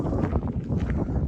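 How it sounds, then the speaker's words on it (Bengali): Wind gusts across a bridge beside a Scottish loch surrounded by hills, a loud continuous low rumble buffeting the microphone without letting up. "ব্রিজে মন্দ হাওয়া"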